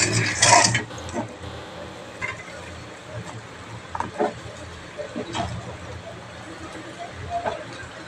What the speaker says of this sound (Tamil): இதில் பாஸ்தாவை போட்டு மிக்ஸ் பண்ண போகிறோம்